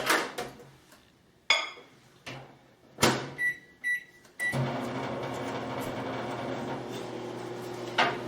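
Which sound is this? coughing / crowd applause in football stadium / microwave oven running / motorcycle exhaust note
microwave oven running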